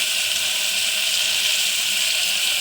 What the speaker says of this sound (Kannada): 1/4 ಗ್ಲಾಸ್ ನೀರು ಹಾಕ್ಬೇಕಷ್ಟೇ ಫ್ರೆಂಡ್ಸ್.